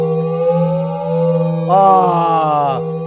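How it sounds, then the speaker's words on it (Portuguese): A loud electronic siren-like tone sounds steadily, then swells into a brighter, harsher burst for about a second before dropping back to the lower steady tone. "A sirene novamente."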